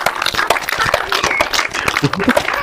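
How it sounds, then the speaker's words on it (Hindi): An audience at a yoga session claps hands loudly and energetically, a dense, busy burst of many hands with some voices mixed in. "उनके लिए एक बार जोर से ताली बजाइए जरा सा कस के"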